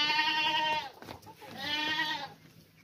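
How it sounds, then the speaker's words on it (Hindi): A castrated two-toothed sacrificial goat at a livestock market bleats twice, close and clear, with a brief pause between the two drawn-out calls. "ये कुर्बानी का बकरा चेक करें, दो दांत खस्सी बकरा है"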